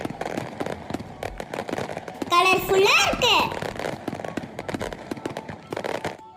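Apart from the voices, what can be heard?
firecrackers bursting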